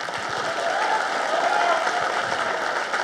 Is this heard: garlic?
no